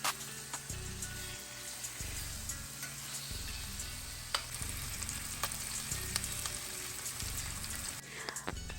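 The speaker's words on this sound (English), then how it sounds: "we're just gonna drop our salmon right in the skillet, honey, and we're gonna cook them up" Salmon fillets fry in olive oil in a skillet, giving a steady, close sizzle and crackle that runs unbroken throughout with no talking.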